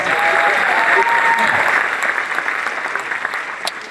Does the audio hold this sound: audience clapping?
yes